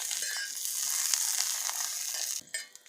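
Steady sizzling of vegetables, including eggplant, frying in a little hot oil on a griddle for vangyacha thecha, close up, with a brief scraping stir near the end.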